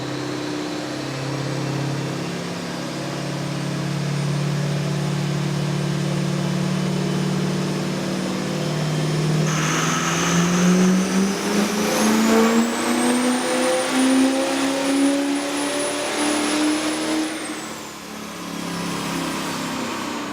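A diesel truck engine roars through a long dyno pull at a diesel power competition in Denver, a loud sustained drone that climbs steadily in pitch with a rising turbo whistle, then eases off near the end.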